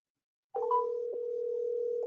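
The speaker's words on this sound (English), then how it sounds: "let's call Rob right now. Let's see if he answers the phone." A phone call placed on speakerphone produces a steady, continuous electronic tone after a moment of silence, thin and fairly quiet, with no voices.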